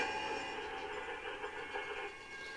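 A video game train rolls along on a private server with a steady mechanical rumble and a tonal whine, a sustained even drone without a horn or any talk.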